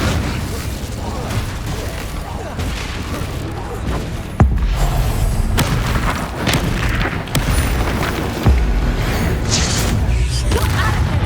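Explosive combat spells such as Confringo and Bombarda blasting in Hogwarts Legacy, a dense, continuous battle din with sharp booming impacts near 4.5 and 8.5 seconds, amid busy game effects.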